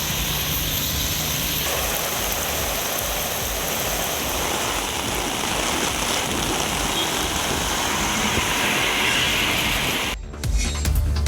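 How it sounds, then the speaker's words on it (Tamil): Heavy rain pouring steadily in Tamil Nadu, a dense, continuous hiss and patter close by with no voices, ending in a brief muffled shift near the end. "மழை வெளுத்து வாங்கியது"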